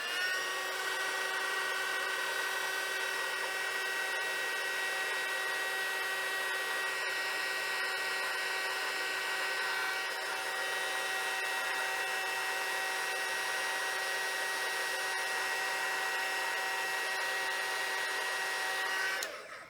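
A heat gun runs continuously, shrinking heat-shrink tubing over wires while building a tube preamp, a steady whining fan-and-heater hiss at close range that holds for the whole stretch and cuts off at the end.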